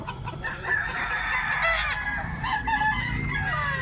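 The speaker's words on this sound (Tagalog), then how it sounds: "Ang daming manok, guys, oh." A rooster crows nearby among other clucking chickens, several calls overlapping in a busy farmyard.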